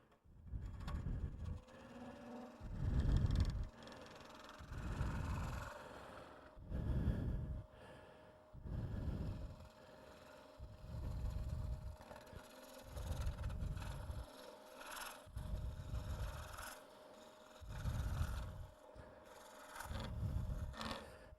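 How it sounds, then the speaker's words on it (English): A gouge hollows end grain wood on a lathe, making repeated rough, breathy scraping cuts at a steady rhythm of about one stroke every two seconds, each a low, muffled rasp over a faint, constant motor hum. "Maybe I can clean a little bit of it out with this gouge"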